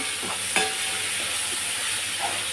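Tomato and onion sauté in a pan over high heat for a pulao, a continuous sizzle with a few sharp spatula scrapes and clicks, close up and without any voices.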